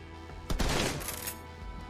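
A shotgun blast in the Shadowrun: Hong Kong game, one loud broadband boom with a ringing tail over steady background music.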